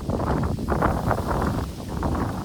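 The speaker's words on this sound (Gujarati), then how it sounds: "પવન બહુ છે એટલે અવાજ તો થોડોક આવશે" Strong wind gusting steadily across the microphone in an open farm field, a continuous low rumbling roar with no voices.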